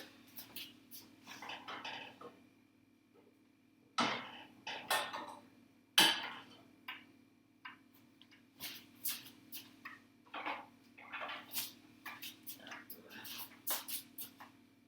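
Vegetables being added to a pot of browned beef for chili: scattered clinks and knocks of utensils against the pot, with a few sharper hits, quiet and intermittent.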